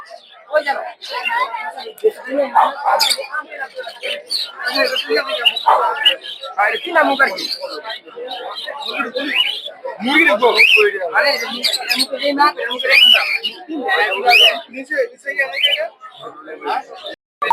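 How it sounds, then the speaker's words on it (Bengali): Birds chirp and squawk among the bustle of a bird and pigeon market in Puthia, where local songbirds and mynas are sold, with near, steady conversation running over the calls throughout. "তো বিহাটে প্রচুর পরিমাণে দেশি পাখি পাওয়া যায়"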